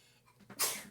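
A single close, sharp sneeze bursts out after a brief breathy intake, then trails off quickly.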